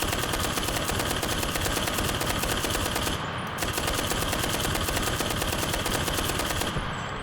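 Sustained automatic machine gun fire in the World War II shooter Enlisted, a dense rapid stream of shots close and loud, broken by two short pauses between long bursts, with no talking.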